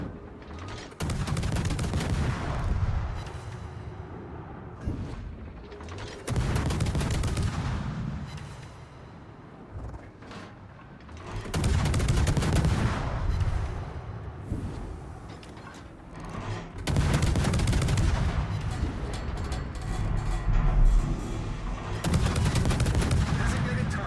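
Gunfire in a shooter video game comes in repeated loud bursts of rapid shots separated by short quieter gaps, with a player talking between the volleys.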